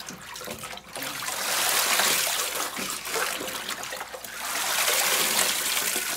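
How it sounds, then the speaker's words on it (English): Tap water splashing and trickling over plastic growing trays during a quick rinse, a steady hissing wash that swells and dips as the trays are moved under the stream, close by, with no talking. "give them a quick rinse"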